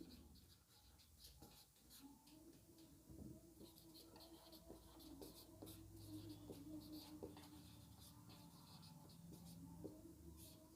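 A pen writing on paper during a Class 10 maths lesson, with soft scratchy strokes going on steadily and faintly, interrupted by brief pauses, against a quiet room background.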